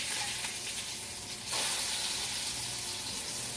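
Swordfish steak searing in a hot cast iron pan gives a steady frying sizzle that swells sharply partway through, loud and close, with no voices.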